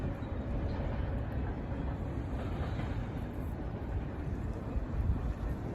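BNSF freight train hauling ocean containers toward Oakland rumbles past steadily, a continuous low rolling roar with some wind buffeting on the microphone, moderately distant and without speech.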